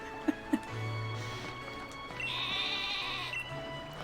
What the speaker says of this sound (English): I'm gonna go talk to the sheep.